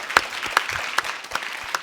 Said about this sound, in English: I like to ask a big applause for this panel.